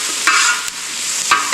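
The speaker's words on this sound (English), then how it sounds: "See they're frying up nicely." Onions frying with a little seasoning on an Even Embers wok disc over a shop grill give a steady close broadband sizzle, broken by a few brief stirring scrapes, with no voices.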